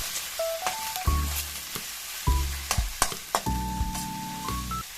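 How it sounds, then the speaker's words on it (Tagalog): Pork pieces sizzling in a pot for pork tinola with sayote, a steady frying hiss broken by clattering stirs, with sustained tonal hums and whines running underneath; no one talks. "Pagkatapos po nating mailagay yung karne, ito po ay hahaluin po natin."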